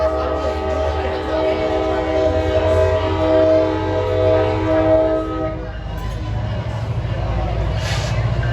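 A commuter train pulls out of a station bound for Suffern, with a steady loud rumble, a sustained tonal horn-like drone and rail noise that drops near the end, heard up close with an announcement-style voice nearby.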